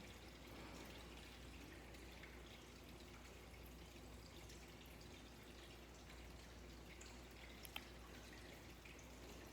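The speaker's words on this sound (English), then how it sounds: "to the sound of the water trickle down" Water trickling in a continuous soft, even wash, faint and steady throughout, with a single small splash or drip near the end.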